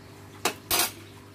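Utensils clink against dishes while a fried chili sambal mixture is strained for an organic pest spray, two short metallic knocks, the second longer and scraping, close by with no talking.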